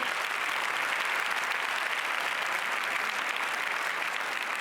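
An audience at the Cannes Film Festival 2015 applauds, a long, even roar of many clapping hands, full and steady throughout with no speech.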